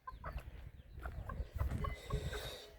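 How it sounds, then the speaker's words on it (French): Laying hens and a large rooster in a backyard poultry yard, scattered soft clucks and short calls nearby, irregular and fairly quiet, some overlapping in small bursts. "avec le gros coq qui prend son petit bain de soleil"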